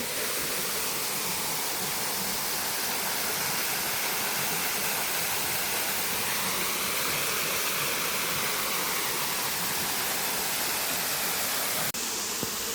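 Jo Pro waterfall runs over limestone by the cave system of Wat Tham Phra Phothisat temple in Kaeng Khoi, Saraburi, a dense, constant roar of falling water that stays even and loud throughout with no talk.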